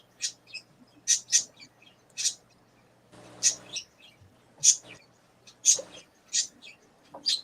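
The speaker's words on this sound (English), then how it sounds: "Those birds seem to have a little song or a rhyme or something going." Birds chirping outdoors, sharp high chirps and short song phrases in irregular bursts with quiet gaps between them, close and clear, with faint background noise at times.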